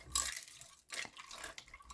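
Chickpea pasta is stirred into crock pot chicken soup, giving soft wet sloshing and a few light clinks of a utensil against the pot, quiet and close with no talking.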